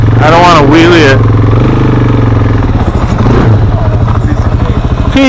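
A motorcycle engine rumbles loudly and steadily up close, its low throb with rising revs running throughout while voices talk over it at the start.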